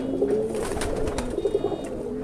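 A pigeon cooing close by in a loft, soft throaty rolling coos repeating over a constant background hum.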